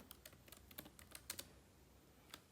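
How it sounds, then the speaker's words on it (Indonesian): Typing on a computer keyboard, a quick run of light, crisp key clicks with a few stronger taps and brief pauses, close by and fairly quiet, with no voices. "Di sini kita ketikkan Pancasila."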